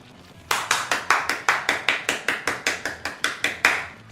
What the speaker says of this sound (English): Sincere clap for you too.